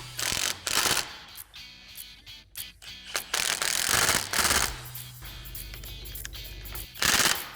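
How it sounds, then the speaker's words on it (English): Impact or power tool running up and tightening axle-area bolts on a Polaris RZR Pro R, loud rapid hammering bursts with ratcheting clatter between them, close by and with no talking. "I'm just going to go ahead and run them up, tighten them up."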